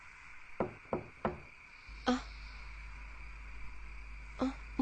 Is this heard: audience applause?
no